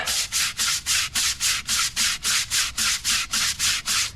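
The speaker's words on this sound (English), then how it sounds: "I'm just using kind of a abrasive bristle brush." Abrasive bristle brush scrubbing a car wheel soaked in cleaner, a rapid even rhythm of about three harsh rasping strokes per second, close and loud with no talk.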